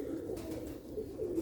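Pigeons kept alongside Sialkoti quail give soft, low cooing calls, a steady murmuring hum close by with no speech over it.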